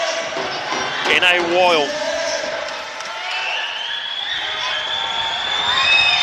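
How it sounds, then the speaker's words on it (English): Crowd at a National Basketball League game between Birmingham Rockets and Reading Rockets roars loudly and steadily through the arena during free throws, sustained cheering with a commentator talking over it. "And that might be the loudest I've heard this crowd"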